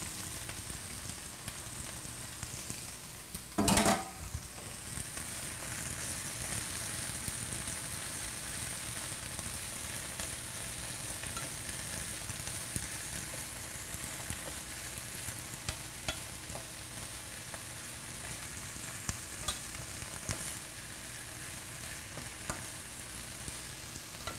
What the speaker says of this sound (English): we're gonna stir fry this for about two minutes